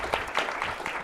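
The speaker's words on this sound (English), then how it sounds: "Let's give our panelists a round of applause." Audience applause for a panel at the close of an evening talk on AI and U.S. national security, a brief steady wash of clapping with no voices over it.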